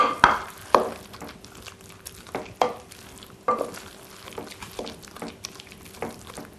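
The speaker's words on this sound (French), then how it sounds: "Là, nous mélangeons." Spinach tart filling stirred in a pan: intermittent scraping strokes at an uneven rhythm, a few sharper knocks of the utensil, with faint soft sizzling beneath, close and moderately quiet.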